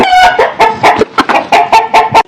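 A chicken near its coop clucks in a quick, loud, close series of about ten sharp, nasal calls, each brief and separated by short gaps, with no other sound around it.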